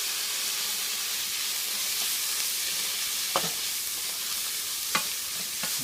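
Sliced flat bread fries with vegetables in a pan, a bright, steady sizzle and hiss, broken by a few sharp scrapes and knocks as the mix is stirred.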